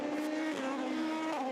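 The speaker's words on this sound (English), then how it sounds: "Down the Mulsanne goes the number 7 car." A Le Mans race car speeds down the Mulsanne straight, its engine a steady high-revving drone heard at moderate distance for a brief moment.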